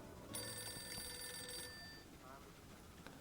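An old-fashioned desk telephone in a Boston office rings with a bright, metallic bell trill for about a second and a half. It then stops, leaving faint background noise, quiet and slightly distant.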